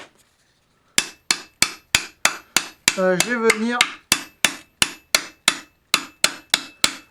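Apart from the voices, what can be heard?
ball-peen hammer striking metal on an anvil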